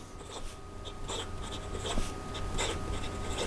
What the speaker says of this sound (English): So then in regard to fast writing,